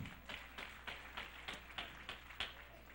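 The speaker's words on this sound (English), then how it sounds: "Give the Lord a hand clap if you love him." A church congregation claps hands together in a steady rhythm of about ten claps over three seconds, moderately faint, with no talking.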